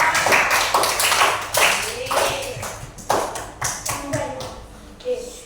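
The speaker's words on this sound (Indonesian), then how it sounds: "Tepuk tangan buat Diara." Schoolchildren in a classroom clapping for a classmate, a series of uneven bursts of hand claps that rise and fade, with small voices mixed in.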